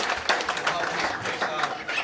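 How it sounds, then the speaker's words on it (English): Scattered audience applause at a PBA bowling stepladder final at Parkside Lanes, a brief burst of clapping of moderate loudness heard in a hall. "Give yourself a round of applause."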